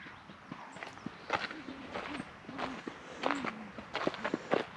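Footsteps of a person running down a dirt trail in an open space preserve in Marin County, heard as a quick irregular series of moderately close thuds over outdoor ambience.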